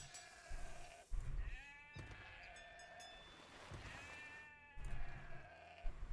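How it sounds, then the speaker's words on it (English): Sheep bleat in a strategy video game match, several wavering cries repeating close by and clearly, with no talking over them. "Oh, was that a sheep?"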